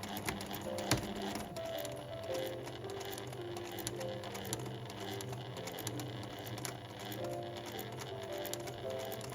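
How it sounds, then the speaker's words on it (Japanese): Sewing machine stitching the fabric of a lined drawstring pouch, a steady close mechanical whir with faint ticking, running continuously with no talking. "そしたらこの部分を縫います。"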